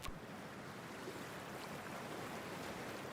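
A character wading into freezing water in Cyberpunk 2077: a steady, broad wash of water and surf-like noise, fairly near and even, after a short sharp splash at the start, with no talking.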